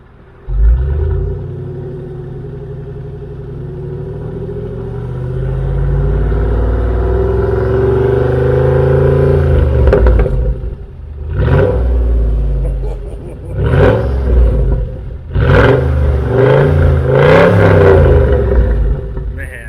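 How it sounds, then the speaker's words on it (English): A Pontiac GTO 6.0 V8 fitted with Magnaflow exhausts idles with a deep, steady rumble, then gives several sharp throttle blips that rise and fall in loud bursts close by. "See how this thing sounds with some magna flows on there."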